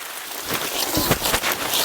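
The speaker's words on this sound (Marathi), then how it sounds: "आज इथे पाऊस पडतोय आणि थंडी वाजते" Rain falls steadily and close, a dense hiss of drops with a few heavier splashes on a surface, with no one talking.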